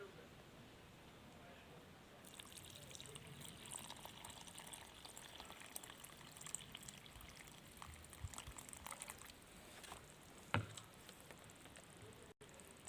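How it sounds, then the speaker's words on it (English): Water is poured onto red soil and soaks in, a faint continuous trickle and patter starting after a quiet moment, with a few small splashes and a brief sharper tap near the end. "See how fast and how quickly it is absorbing the water"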